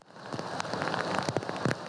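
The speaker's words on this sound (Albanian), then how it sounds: "Tirana është përfshirë nga reshje shiu me intensitet lartë" Heavy rain pours down in Tirana, a steady dense hiss of drops striking hard surfaces, close and continuous, with no voices.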